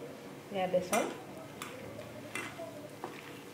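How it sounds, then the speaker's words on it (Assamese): Gram flour stirred into a soyabean mixture in a pan: a spoon scrapes and clinks against the metal a few times, soft rubbing between the knocks, fairly faint and close. "বেচন অকণ অকণকৈ দি এনেকৈ সানি থাকিম।"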